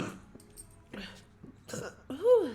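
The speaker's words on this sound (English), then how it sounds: "I feel a burp coming though" Several short burps from a young woman, a few brief bursts spaced across the moment with a louder, rising one at the end, close to the mic.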